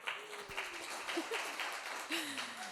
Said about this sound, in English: please give a round of applause to my good friend Hannah